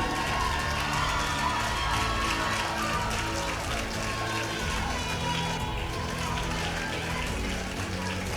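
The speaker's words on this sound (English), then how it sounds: "Thank you for the applause" A graduation ceremony audience claps for a student award, a dense, steady wash of hand claps filling the hall with faint cheering mixed in, sustained evenly throughout.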